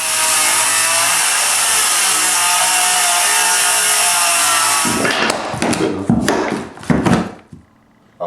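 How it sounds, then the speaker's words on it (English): A power saw cuts out a section of hardwood floor down to the subfloor, a loud steady close whine for about five seconds, then choppy bursts as the blade stops and starts before fading. "I'm actually going to cut the lines that I've made already, so we're going to take that part of the hardwood floor out"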